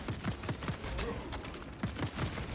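A bolt pistol fires in Space Marine 2 during a battle: a quick run of sharp, punchy shots in uneven bursts, fairly quiet and heard alone without talk.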